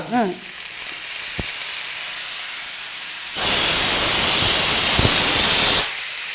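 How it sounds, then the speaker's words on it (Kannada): Tomato and grated coconut fry in a pan, a soft background hiss suddenly swelling into a loud, steady sizzle for a few seconds before dropping away again. "ಇದು ಚೆನ್ನಾಗಿ ಫ್ರೈ ಆಗ್ತಾ ಇದೆ"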